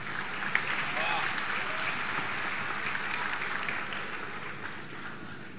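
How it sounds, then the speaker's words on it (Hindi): An audience at a grand mushaira poetry gathering breaks into steady, dense applause, sustained throughout at a moderate distance with a faint crowd murmur. "ज़ोरदार तालियों से इस्तकबाल किया"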